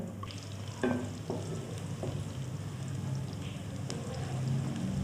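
Onion frying in a cup of hot cooking oil for a spinach and turnip dish, a steady close sizzle with a few stirring scrapes and clicks, no talking over it.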